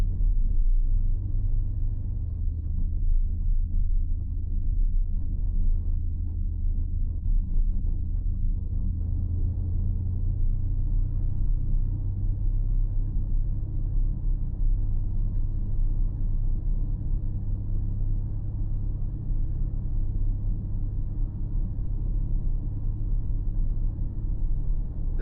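A 2027 Porsche Cayenne Electric driving on the road while regenerating energy: a smooth, low, steady rumble of tyres and cabin noise, with no engine note.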